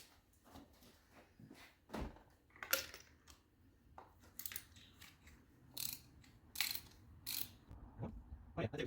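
A ratchet with a spark plug socket turns out the spark plugs on a Volkswagen Passat 2.0T, making quiet, intermittent clicking bursts and sharp metallic clacks close by, separated by short pauses.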